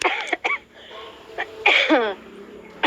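A few abrupt coughs and throaty bursts break up a quiet stretch, close to the listener.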